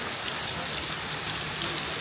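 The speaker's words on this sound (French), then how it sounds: "c'est reparti pour la pluie" Steady rain falling over Bali rice fields, a dense even hiss of drops on surfaces with no break or voices, close and moderately loud throughout.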